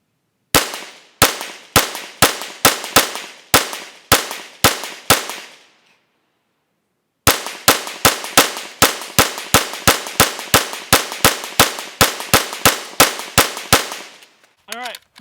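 Rifle shots from a BCM barrel crack out in two rapid strings of sharp, loud, close reports with a short pause between them, each shot followed by a quick decay.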